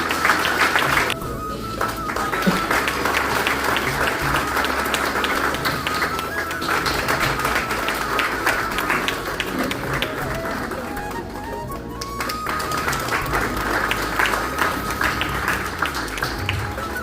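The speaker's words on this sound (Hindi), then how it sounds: "जोरदार तालियों से स्वागत कर दीजिए एक बार" Audience at a New Year poetry gathering applauding to welcome a poet, a steady crowd roar of clapping lasting throughout, mixed with background music and murmuring voices.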